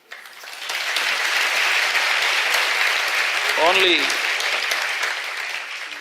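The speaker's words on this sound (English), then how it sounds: "Hey, you shouldn't clap for yourself like" Applause from an audience at a talk, a dense steady wash of clapping that swells in and holds loud throughout, with a brief spoken word cutting through near the middle.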